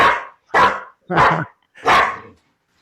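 A dog barks four times, close and loud, in sharp evenly spaced bursts with short silences between them.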